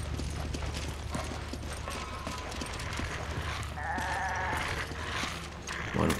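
Goat bleating inside the video game Resident Evil 5, a wavering animal cry rising over dense game ambience and mechanical background noise, mid-distance and moderately loud.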